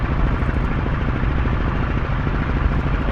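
Steady, loud, throbbing drone of a Fw 190 A-8 piston engine throttled back in Microsoft Flight Simulator, a continuous rumbling prop note heard from the cockpit with no pauses.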